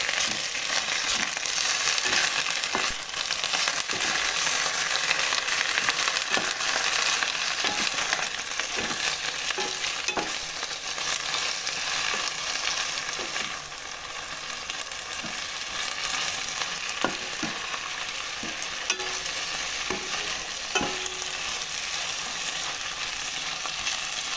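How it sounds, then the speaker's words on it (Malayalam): Drumstick leaves fry and sizzle steadily in a pan for a mrunga leaf stir-fry, broken by repeated scraping strokes of a spatula stirring them, close and continuous with no talking. "നമ്മുടെ മുരിങ്ങയില നല്ലതുപോലെ ഇളക്കുക"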